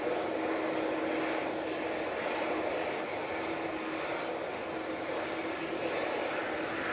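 A Bombardier Global business jet runs its engines with a steady, loud roar and a faint whine, heard continuously at some distance near an airport runway.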